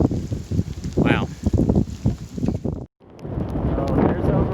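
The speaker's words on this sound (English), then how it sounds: "it's windy" Gusty wind buffets the microphone at Yellow Mountain Gap on the Appalachian Trail near Overmountain Shelter in February, a steady loud roar with a brief drop near the end before rising again, alongside intermittent vocal sounds.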